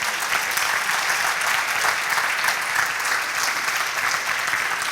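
Sustained applause from a church congregation during a sermon, dense steady clapping filling the room for the whole stretch without a break.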